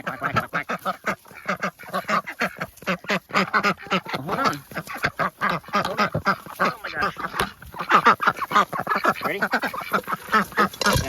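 Farmyard duck quacking rapidly and repeatedly up close, with a person talking over and between the calls.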